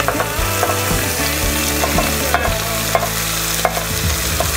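Chopped onions, carrots and celery brown in a pan for a beef stew, giving a loud, dense, continuous sizzle with a low background hum and scattered small crackles.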